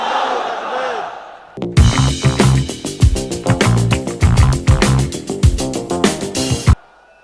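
A large political rally crowd in Bangladesh roars back a takbir chant in unison, loud and dense, swelling in rhythmic pulses of massed voices for several seconds before cutting off.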